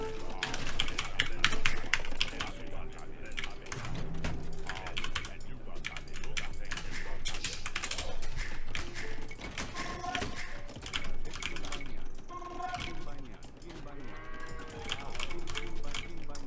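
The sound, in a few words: computer mouse and keyboard clicking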